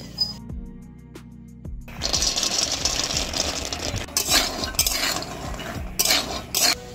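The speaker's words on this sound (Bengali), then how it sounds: "প্রথমে বাদামটাকে একটু ভেজে নেব।" Peanuts frying in a pan while being stirred, with a scraping, clinking rattle in uneven bursts over a sizzling hiss, close and moderately loud.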